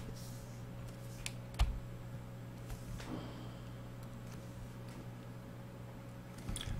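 Soft keyboard typing on a computer while entering storyboard comments, a light patter of keystrokes over a steady electrical hum in a quiet room, with one sharper knock early on.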